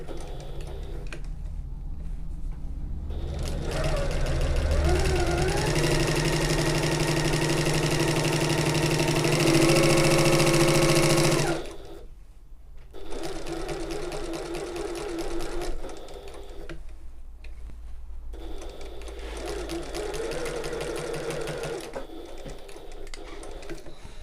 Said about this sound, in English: Okay, so I'm going to back stitch at the start and the end. We're only sewing these 2 side seams here.